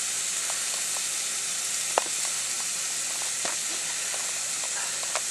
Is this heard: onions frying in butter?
yes